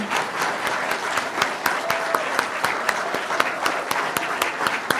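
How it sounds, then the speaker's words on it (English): A church congregation applauds its newest members at a Unitarian Universalist service, steady loud clapping from many hands filling the room, with a cheer and a voice briefly heard within. "please join me again in a round of applause for our newest members"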